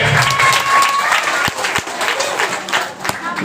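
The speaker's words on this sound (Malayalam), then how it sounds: "അപ്പൊ സഹസ്രയ്ക്ക് നല്ലൊരു കൈയടി." An audience claps for a young girl named Sahasra in a brief, lively burst of applause, loud and close, with a few sharper individual claps standing out.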